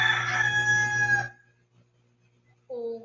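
A rooster crows loudly outside an open window, one long strained call that cuts off abruptly, followed after a short pause by the start of another crow.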